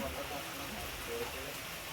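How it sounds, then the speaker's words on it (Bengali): Heavy rain falls in a steady, dense broadband hiss that holds even and unbroken throughout. "খুব বৃষ্টি হচ্ছে, বুঝতে পারছেন আপনারা"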